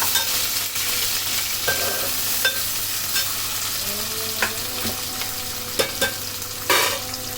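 Onions and green chillies fry in a pan, giving a continuous loud sizzle broken by several sharp scraping clicks of stirring spread across the clip.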